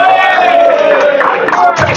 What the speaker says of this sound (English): Wow, what a crowd we have here!